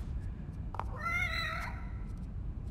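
A cat in The Evil Within gives a single drawn-out, wavering meow near the middle, moderately close over a low rumbling ambient background, with faint clicks around it.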